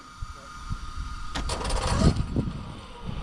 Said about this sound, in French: Oh on a encore des ventilos qui tournent.